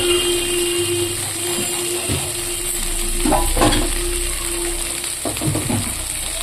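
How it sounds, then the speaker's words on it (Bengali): Water poured into a pan of spices frying for crunchy chhatu sets off a loud, steady sizzle with intermittent stirring scrapes and bursts throughout, no talk. "জল দিয়ে দেওয়া হচ্ছে"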